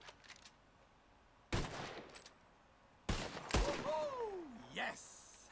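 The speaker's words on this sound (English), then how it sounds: "All right, feller, you shot a bottle." Gunshots in Red Dead Redemption 2 during a bottle-shooting game, two sharp cracks a moment apart ringing out at close range, followed by a voice speaking.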